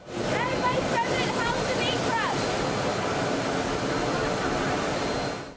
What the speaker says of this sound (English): And boarding her plane, Harris sounding confident too